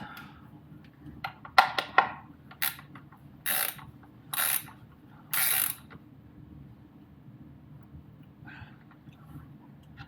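A ratcheting wrench tightens the oil drain plug on a 996.2 Porsche 911 Targa, giving several close clicking bursts followed by three longer, evenly spaced ratchet runs, then faint handling sounds.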